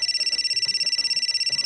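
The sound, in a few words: phone ringing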